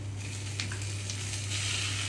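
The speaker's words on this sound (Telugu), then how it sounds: "గ్రైండ్ చేసి పెట్టుకున్న కొబ్బరి అంతా ఇందులోకి వేస్తున్నాను" Grated coconut frying in a pan of tempering with curry leaves and green chillies gives a steady, close sizzle with light crackles. A constant low hum runs underneath, and no one speaks.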